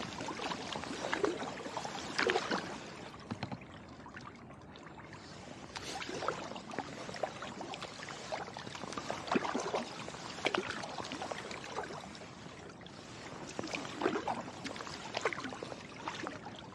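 Kayak paddle strokes dip and splash in cold winter water after a snowstorm, a steady series of close watery swishes and trickles repeating every second or two, with no talk.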